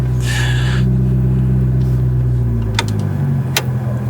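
A McLaren 650S Spider engine idles steadily with a low rumble while parked, then cuts off near the end, leaving a couple of faint clicks.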